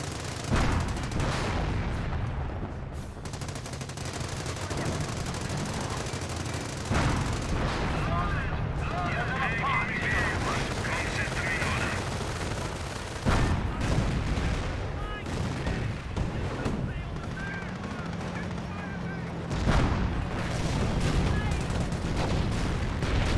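Company of Heroes battle audio with booming artillery barrages and crackling machine gun fire runs dense and continuous, layered under a caster talking over the action.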